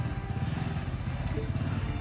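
A small motorcycle engine putters steadily nearby on a street in Thailand, a low buzzing idle with a regular pulsing beat, with faint voices in the background.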